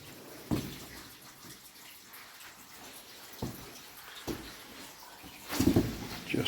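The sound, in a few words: water flowing down stone stairs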